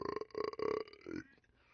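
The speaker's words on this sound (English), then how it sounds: "Belch." One long, rumbling belch in the voice of Master Belch, a loud, broken, pulsing burp in several chunks that tapers off at the end.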